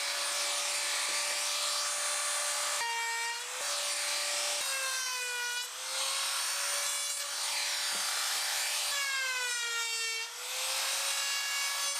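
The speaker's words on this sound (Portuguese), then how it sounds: "Também adicionei um chanfro decorativo ao redor da borda superior externa das peças da base," A handheld router cutting a decorative chamfer along the top edge of wooden base pieces gives a steady high whine whose pitch sags and recovers several times as the bit bites, close and alone.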